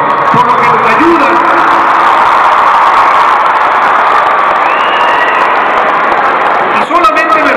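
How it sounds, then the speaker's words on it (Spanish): A crowd at a Children's Day celebration applauds and cheers for the teachers, a loud, continuous wash of clapping mixed with excited voices and shouts that carries on without a break. "A ellos les pido que les demos un fuerte aplauso por lo que nos ayudan."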